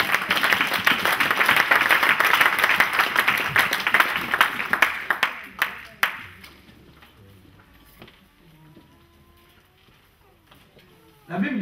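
Church congregation clapping and cheering during a sermon, dense loud applause for several seconds that thins to scattered claps and fades to quiet murmurs, with a burst returning at the very end.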